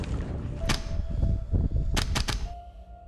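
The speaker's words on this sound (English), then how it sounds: "Just love the gas blowback noise." An airsoft gas blowback rifle fires a few sharp snapping shots, one single crack followed later by a quick rapid string of three, with mechanical clatter and rumbling game background between them.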